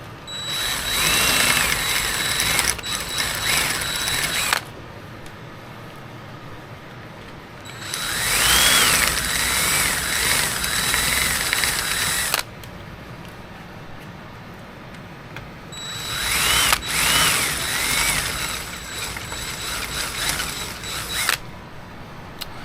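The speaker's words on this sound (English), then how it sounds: "it looks like I'm going to drill it out" A power drill whines loudly in three long bursts, grinding a return fuel line hole through the metal rear channel of a Zenith 750 Cruzer aircraft wing, with short quieter pauses between them.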